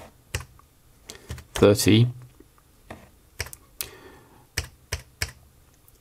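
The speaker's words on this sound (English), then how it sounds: "now I should be able to type 20" Typing on the keyboard of a Brother SuperPowerNote Z80 laptop: scattered sharp key clicks at an uneven pace, close by, with someone talking briefly in between.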